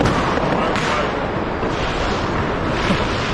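Dense New Year's Eve fireworks going off in a German street, a loud, continuous barrage of crackling bangs and booms with no pauses, like a war zone.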